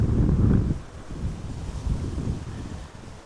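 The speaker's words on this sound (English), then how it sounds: "I think overall the wind speed has not gone down yet" Strong wind buffets the microphone at Amsterdam Schiphol Airport, a loud low rumbling roar that surges at the start, eases slightly, then keeps gusting unevenly throughout.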